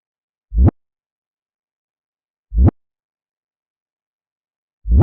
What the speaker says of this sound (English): I used this reverse kick,